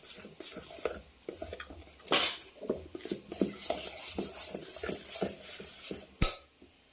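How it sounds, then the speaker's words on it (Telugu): Jalebi batter mixed with a few drops of lemon juice in a bowl, giving irregular clinks and taps of a spoon against the bowl, close and fairly quiet, with a sharper knock near the end. "బాగా కలుపుకుందాం అండి."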